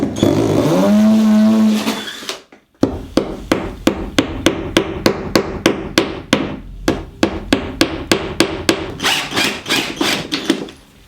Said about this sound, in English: And by cut I definitely mean drill.